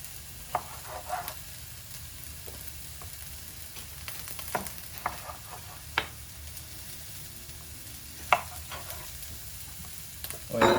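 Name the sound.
onions frying and being stirred in a pan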